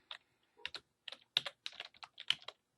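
Keys tapped on a computer keyboard to enter a search term, in short clustered bursts of clicks separated by brief pauses, close and fairly quiet with no talking.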